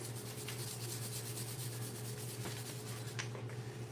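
Small toothbrush-type brushes scrub steadily in a garage, a soft, continuous rasping with faint repeated strokes over a constant low hum.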